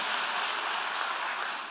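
Steady applause from a church congregation at a Woman's Guild commissioning service, a dense continuous patter of clapping held at even loudness throughout and easing slightly at the very end.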